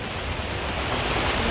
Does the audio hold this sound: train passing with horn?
no